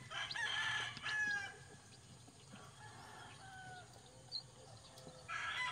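Chicks and chickens at a hatching, with repeated crowing and clucking in bursts near the start and end, while softer calls fill the middle.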